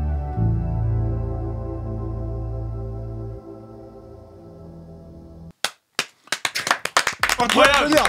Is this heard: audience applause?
yes